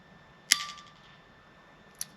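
A sharp metallic click from a High Standard DM101 Derringer in .22 Magnum being dry-fired, one crisp snap with a short ring, then a fainter second click a moment later, no voices.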